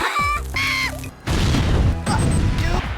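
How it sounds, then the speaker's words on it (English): A grenade blast in the video game Worms Reloaded: loud crashing booms and thuds fill the clip, with cartoonish voice-like tones and whistles at the start and short squeaks between the hits. "We're in trouble, Bob. Grenade!"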